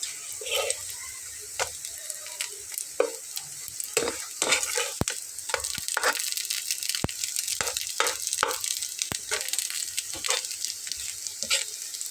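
A potato and flour snack fries in hot oil, a steady soft sizzle broken by sharp clicks and scrapes of a utensil against the pan, close up and without voices.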